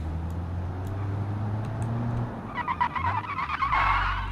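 Locked-wheel tire skid in a video game screeches in over a low engine drone, a few harsh squealing bursts building up near the end.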